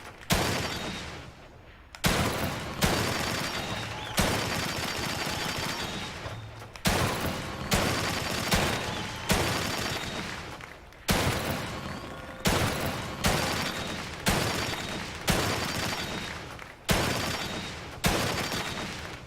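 Gunfire in The Evil Within 2 video game, with loud, regular bursts of shots roughly every one to two seconds, each a sharp attack trailing into a long decaying echo, close and prominent, with no talking.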